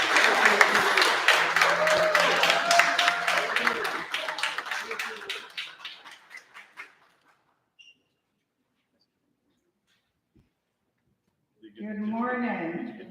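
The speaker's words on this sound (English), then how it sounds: "Give her a big round of applause, everybody." Audience applause for Dr. Lindsay at a press conference for the African American Day Parade, a loud burst of clapping that fades out over several seconds, followed by silence and then a voice speaking.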